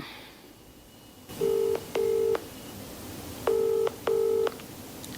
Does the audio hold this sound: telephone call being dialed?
yes